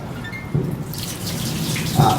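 Plain tap water from a pipe is poured over a body during ritual washing of the dead, giving splashing and running water, with a louder gush near the end.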